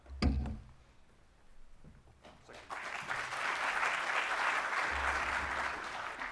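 Audience at the Everything IoT Global Leadership Summit 2017 clapping for presenters, a few thuds first, then applause that swells in and holds steady at moderate loudness.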